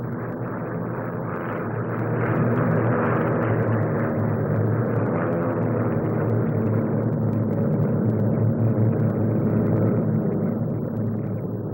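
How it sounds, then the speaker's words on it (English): A Bristol 173 twin-rotor helicopter with two Alvis Leonides engines drones continuously at a steady, heavy pitch at the 1957 Farnborough air show, growing slightly louder after the opening seconds and staying constant. "Biggest of the helicopters, the now familiar Bristol 173 twin-rotor machine"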